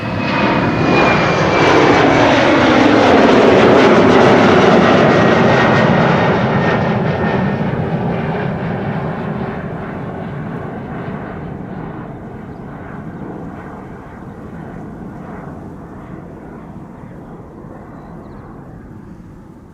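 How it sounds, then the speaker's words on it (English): Embraer 190 jet departing Amsterdam Schiphol's Polderbaan runway in rainy weather, bound for London City: a strong, steady jet roar that swells early, holds, then gradually recedes into the distance over twenty seconds, heard alone. "This is an Embraer 190 to London City."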